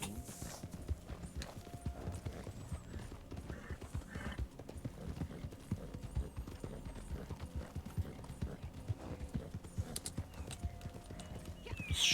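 Horse hooves clip-clop steadily in the video game Red Dead Online, with an occasional neigh or whinny. The sound stays fairly faint over a busy game background.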